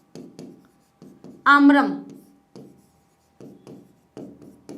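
Writing on a board during a Sanskrit grammar lesson, heard as short scratchy strokes in quick bursts separated by pauses, with a teacher's voice speaking a single word midway.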